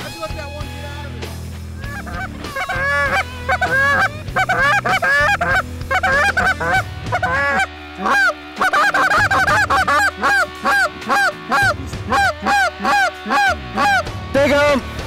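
A flock of Canada geese honks in a continuous, overlapping chorus during a hunt in Saskatchewan. The calls are loud and close and come in rapid repeated bursts, and a few voices talk faintly underneath.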